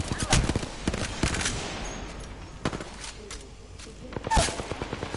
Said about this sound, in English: There's a barrage somewhere.